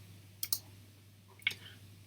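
Mouse clicks on an export button in a calendar scheduling app: two quick close clicks followed a second later by another crisp click, faint and near, with no talk.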